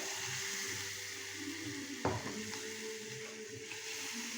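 Frying masala in a pan sizzles softly, then a sudden splash of water poured from the spice pot sets off a sharp burst of hissing and bubbling that settles into a quieter simmer.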